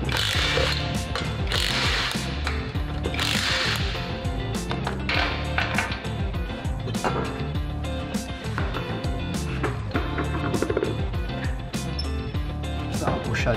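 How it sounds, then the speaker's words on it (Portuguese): A power screwdriver with a 19 mm socket spins off the wheel nuts of a 1998 Fiat Palio, giving repeated loud ratcheting whirs and clicks in quick bursts, close up. "tirando a roda do veículo utilizando uma chave 19 de soquete com a parafusadeira"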